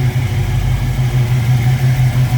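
A 1968 Ford Mustang Convertible engine idles steadily with a deep, even rumble, loud and close, with no other sounds.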